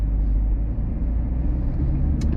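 Engine of a 2022 Chevrolet Camaro SS 1LE with a Tremec manual transmission, a steady deep low rumble while driving, continuous and close with no talk.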